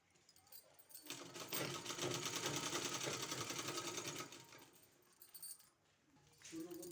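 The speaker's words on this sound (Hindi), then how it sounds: "इस तरह से सिलाई लगाने के बाद ये देखिए अब हमको इस तरह से रख के इसको इस तरह से सिलाई लगा देना है" A sewing machine runs in a steady, fast, close burst of stitching on a suit neck design for about three seconds, then stops, with a shorter run of stitching near the end.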